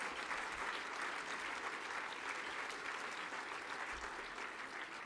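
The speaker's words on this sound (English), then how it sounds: "Sylvain and Laura, come on up and receive some, applause from your peers, due accolades." Diners at an annual forecast dinner applaud contest winners, a continuous, even round of clapping from a roomful of people, heard at a moderate distance without speech.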